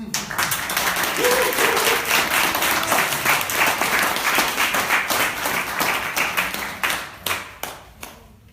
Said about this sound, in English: Let's give one applause to her, please.